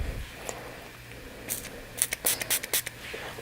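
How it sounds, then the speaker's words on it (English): A few short, hissy bursts of makeup setting spray fire onto a brush in quick succession close by, preceded by faint handling noises. "I'm just going to take a setting spray and spray my brush"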